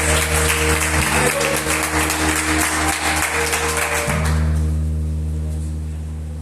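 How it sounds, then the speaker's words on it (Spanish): Applause from a church congregation fills the first four seconds as dense broadband clapping, then gives way to sustained organ-like tones that fade out. "¿Cómo puede ser mejor que ese aplauso?"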